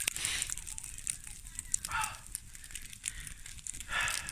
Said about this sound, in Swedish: En brasa.